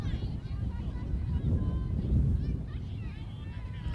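Wind buffeting an outdoor microphone at an evening girls' high school playoff soccer game, a steady low rumble throughout with faint distant crowd and play sounds underneath, no close talking.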